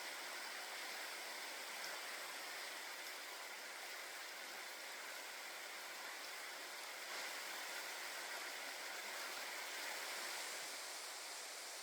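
River water flowing steadily through a valley in Olympic National Park near Queets Campground, a continuous broadband rush with no pauses, moderately distant and unbroken by voices.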